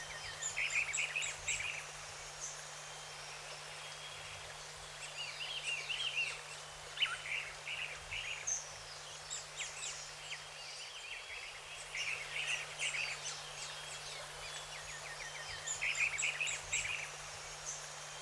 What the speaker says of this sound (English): The yellow-browed woodpecker is typically found in the middle story, where it forages alone or in a pair.